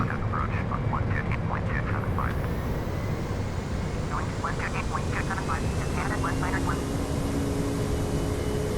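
DC-8 thrust reversers deployed on landing in Microsoft Flight Simulator X, a steady loud broadband engine roar filling the whole stretch, with faint tonal chirps scattered above it.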